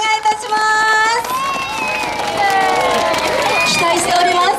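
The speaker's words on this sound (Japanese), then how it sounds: "大きな拍手をお願いいたします" Audience at a summer festival talk show with football club players, applauding and cheering in a dense, sustained burst that follows a short pause, with excited voices mixed into the crowd noise.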